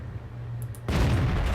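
A tank gun round hitting an IS-6 heavy tank through its front armor in World of Tanks: a single sudden loud impact burst that cuts in partway through and holds as a roaring, sustained blast.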